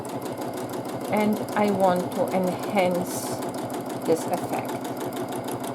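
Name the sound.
sewing machine free motion quilting a block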